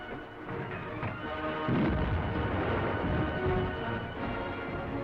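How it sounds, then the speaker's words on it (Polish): A heavy booming warning shot from a warship's gun in the Atlantic, 1941, rings out, followed by a long rumbling roar over constant low engine-like noise. "Strzał ostrzegawczy."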